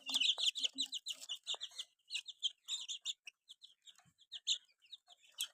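Small chicks on a farm chirp and peep in rapid, high, overlapping bursts that continue without a break, close and fairly loud. Brief gaps separate some bursts, and no one speaks.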